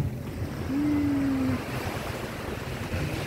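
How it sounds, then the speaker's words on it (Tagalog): Gentle ocean waves wash onto a calm beach in Pangasinan, a soft, steady surf rumble with light wind noise and a brief faint tonal hum partway through, and no talking. "Ang hampas ng alon ay banayad, tahimik na tahimik."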